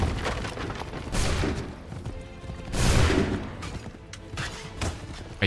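Gunfire in the video game Assassin's Creed 3, several booming musket-style shots amid a busy, noisy battle soundscape, with swells of loudness spread across the clip.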